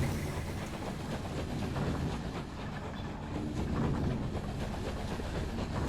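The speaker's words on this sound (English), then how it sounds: "Yeah, we're on a train. This is a train." A train rolls along the rails in the video game Night in the Woods, a steady rumble with faint rhythmic clatter of the wheels and no talking.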